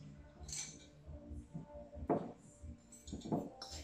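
Pine nuts being stirred into a lemon tart mixture in a bowl, with soft scraping and clinking of utensil against the bowl in irregular bursts, moderately close amid low background murmur.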